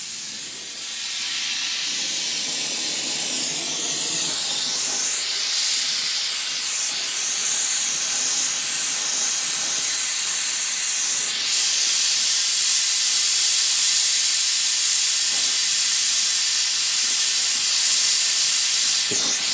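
A gas torch brazes with silicon bronze TIG brazing rod and a little flux, giving a loud, steady, close rushing hiss that runs unbroken throughout.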